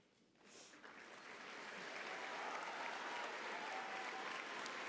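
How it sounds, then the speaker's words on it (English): Graduation audience for a high school class of 2024 starts clapping after a brief pause, the applause swelling within a second into a sustained, even roar from a large crowd in a hall. "Let's give them a round of applause."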